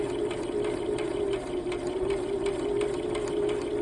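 A sewing machine stitches fabric at a slow, steady pace, its needle mechanism giving a continuous mechanical whir with a faint regular ticking close by, without any talk.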